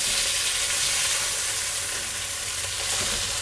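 Rabbit pieces brown in a hot pan, giving a loud, constant frying sizzle with faint stirring scrapes and no voices over it.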